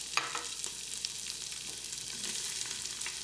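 Onions sizzle steadily in hot oil and beef drippings inside an Instant Pot, a close, even crackle with a few sharper pops, alone without voices.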